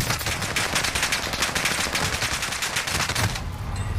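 Rapid automatic gunfire in a Call of Duty Warzone match on the Caldera map, sustained loud bursts of closely spaced shots that carry on for several seconds before cutting off.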